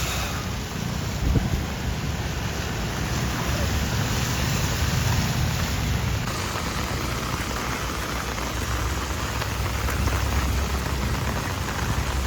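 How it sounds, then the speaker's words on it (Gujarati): Heavy monsoon rain pours steadily throughout in Surat city, a dense continuous hiss and patter with a low rumble underneath, loud and close. "જોવો વધ્યો વરસાદ"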